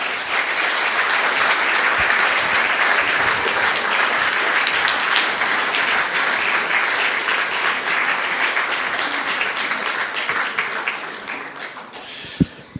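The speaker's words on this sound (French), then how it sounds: "Je vous propose de les applaudir." Applause from an audience at an evening event on a Waterloo 1815–2015 reenactment, dense sustained clapping that fills the room and tapers slightly near the end with no talk over it.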